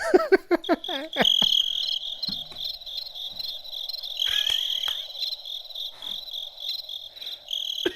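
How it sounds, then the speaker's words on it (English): A cricket chirping sound effect plays as a gag after a bad joke, a steady high trill pulsing throughout with a few short thumps and clicks at the start. "You got the crickets."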